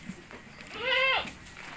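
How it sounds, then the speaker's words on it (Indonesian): A goat bleats once at a farm where goats are kept for sale, a single wavering, nasal cry lasting about half a second, fairly close and clear over quiet background. "kita update kambing-kambing yang akan kita jual hari ini termasuk pejantan kita, maskot kita, Pajiru"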